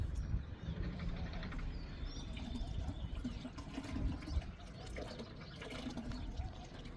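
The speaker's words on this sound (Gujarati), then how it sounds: "આ ટાંકામાંથી આ ટાંકામાં પાણી ભરવું છું અટાણમાં" Water runs steadily from one rooftop tank into another, a continuous splashing flow heard outdoors. Faint birdsong and occasional background voices sit underneath it.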